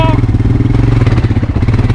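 A motorcycle engine runs steadily with a low, throbbing, pulsing rumble that stays loud and close throughout, as the rider sets off on a ride, with a voice faintly present over it.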